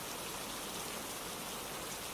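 Rain falls in a soft, steady, even patter, heard faintly and uniformly with no other sounds.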